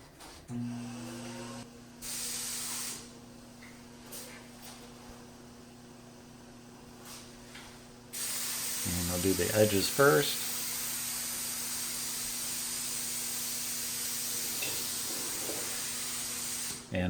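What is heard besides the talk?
spray gun spraying lacquer finish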